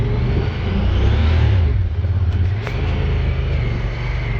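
A 2022 Honda Pioneer 1000 UTV on portal gear hubs and 33-inch tires, geared very low and running in one-wheel drive, revs hard in a low rumbling roar that eases off briefly as it upshifts, close and continuous.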